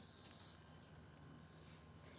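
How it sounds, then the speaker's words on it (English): Cicadas in trees make a steady, high-pitched continuous drone, faint and distant, unbroken throughout with no talk. "You hear cicadas here."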